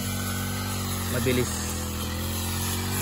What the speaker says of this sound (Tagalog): So kaya mabilis magano si Tatang ngayon, mabilis mag-grass cutter.